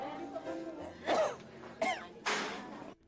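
A 53-year-old man who has been weak for nearly two years and coughs up blood lets out three harsh, wet coughs, each louder burst separated by pauses, close by with some talk before them.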